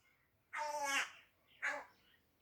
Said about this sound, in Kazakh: Мына қарға ғой